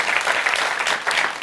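Audience applause at a Corsican music gathering, steady clapping from a crowd filling the whole short stretch at an even, dense level.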